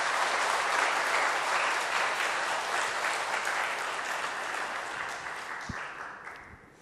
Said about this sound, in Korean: 나오실 때 큰 박수로 이렇게 맞이해 주시면